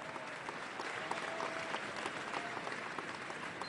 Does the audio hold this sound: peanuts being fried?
no